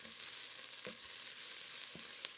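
Vegetables sauté in a pot as the base for a yellow split pea and leftover ham soup, giving a steady close sizzle and hiss with a few faint stirring clicks.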